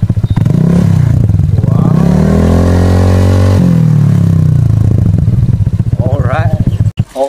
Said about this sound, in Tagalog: Honda Click 125, Yoshimura R77, sound check tayo without silencer.